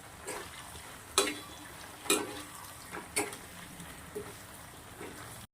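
Lemon potato masala stirred in a pan, a few sharp scraping clinks of the spoon against the pan spaced about a second apart over a faint steady sizzle, close and quiet.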